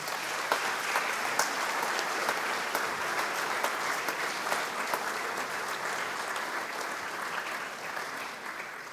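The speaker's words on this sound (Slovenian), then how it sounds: "Prosim za aplavz." Sustained audience applause at a tamburica band's 30th anniversary concert, steady dense clapping from a large crowd for several seconds, with a few sharper individual claps standing out.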